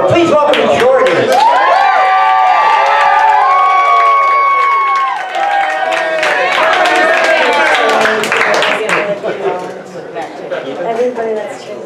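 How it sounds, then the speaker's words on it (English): Comedy club audience at an open mic night cheering, whooping and clapping loudly as a comedian takes the stage, the noise tapering off after several seconds. "Everybody that's cheering for me is my friends."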